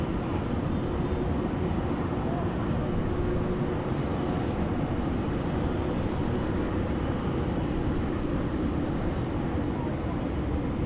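A USAF KC-135 tanker aircraft takes off at Sydney Airport, a steady, loud jet roar rumbling evenly for the whole stretch, heard from a distance without talking.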